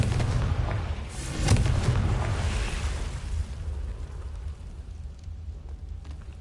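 Confringo fire spell exploding in the Hogwarts Legacy video game, a loud deep boom with a rumbling burst that slowly fades into a crackling tail, no talking.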